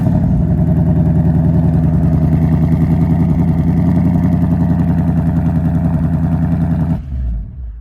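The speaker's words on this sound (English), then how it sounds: "So as you can hear, we do have a really great sounding exhaust" A 2025 Ford Mustang GT's active valve exhaust drones loudly and steadily, rumbling at a raspy idle-to-mid rev, then cuts off abruptly near the end.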